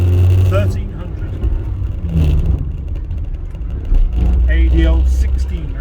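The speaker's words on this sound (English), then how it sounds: "I'm driving here at Austin 1300" A 1973 Austin 1300 ADO16 car drives along with a steady engine hum and road noise, while a person talks over it inside the cabin.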